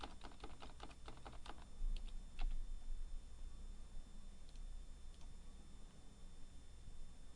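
Keys clatter in a quick burst on a computer keyboard as a password is typed, followed by a few isolated taps, close and fairly quiet with no talking.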